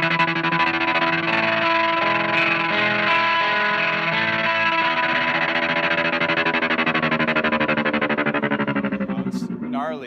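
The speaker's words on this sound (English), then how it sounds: "I'm also controlling the tempo of the pan, so I can have pan and tremolo," An electric guitar runs through a Lexicon MPX G2 with pan and tremolo effects, sustained chords pulsing steadily in a rapid rhythmic throb, loud and alone, fading out at the end.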